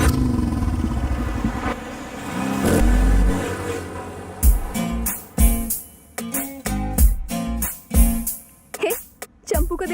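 A car engine revs and pulls away. Loud, rough engine noise fills the first half, then gives way to choppy, intermittent bursts of sound, with people talking around it.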